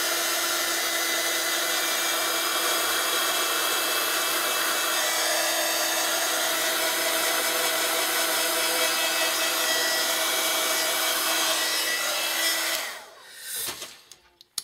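A hair dryer blows steadily at close range into the inside of a shabby chic desk tidy, a loud continuous whirring hiss that cuts off near the end.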